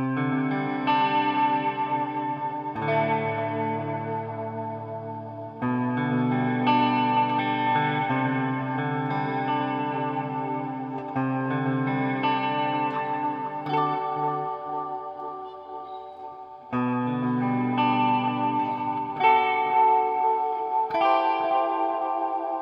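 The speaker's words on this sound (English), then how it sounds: "it really gets nice when you start mixing in with the old reverb like we had it set before" Electric guitar played through an Analog Alien Rumble Seat pedal with delay and reverb, sustained chords ringing into long, spacey echoing tails, each new strum swelling over the decaying wash, no talking.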